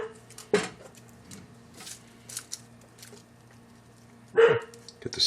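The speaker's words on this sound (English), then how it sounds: "And the dog thinks there's somebody at the door." A dog barks indoors in a home kitchen during prime rib roast preparation, two sharp barks about four seconds apart over a low steady hum, with faint knife and kitchen clatter between them.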